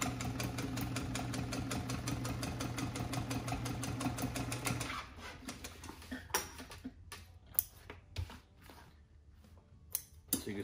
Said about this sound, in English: now we're going to do a top stitch on here